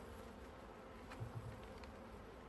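Honeybees buzz around an opened hive during an inspection on a chilly, sunny 55-degree day, a faint steady drone with a few slightly louder passes close by.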